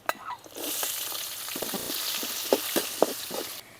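Onion and green chillies frying in a pan for paruppu rasam give a steady broadband sizzle with a few sharp stirring scrapes and clinks partway through, close up, with no talking.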